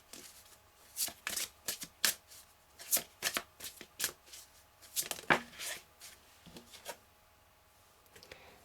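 Oracle cards are shuffled for a reading, giving a run of crisp, close riffling bursts and soft rubs in an irregular rhythm against a quiet background, with no voice heard.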